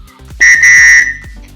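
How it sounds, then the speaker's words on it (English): A single shrill emergency whistle blast, loud and close, held for about a second before cutting off. "and a whistle"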